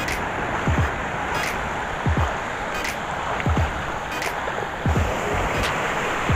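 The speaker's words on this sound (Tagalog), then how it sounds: "nakakatakot lang yung alon" Rough surf rolls and crashes steadily, with wind noise over the water and periodic heavier wave impacts every second or so, during the northeast monsoon.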